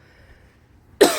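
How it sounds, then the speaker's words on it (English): A single sharp cough bursts out right at the end after near silence, close and loud. "Sorry, I have a bit of a cough today."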